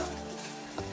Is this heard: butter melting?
yes